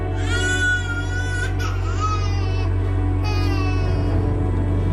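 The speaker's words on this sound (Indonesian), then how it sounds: "Kayak ada suara bayi" An infant cries in a continuous, sustained wail with rising and falling pitch, loud and close, lasting several seconds over a steady low hum, in an orphanage setting.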